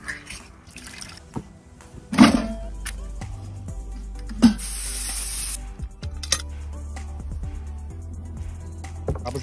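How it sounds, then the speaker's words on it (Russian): Onions fry in a pan while a soup cooks outdoors over a grill fire, a soft ongoing sizzle broken by two sharp clanks and stirring scrapes, with a low hum underneath. "Обжариваю лук."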